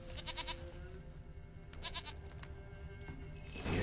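Goat bleats sound in The Witcher 3 game, several short wavering calls near the start and middle, over a steady low in-game ambient hum with a sharper noise rising at the end.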